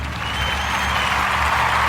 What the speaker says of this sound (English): Round of applause for the East, man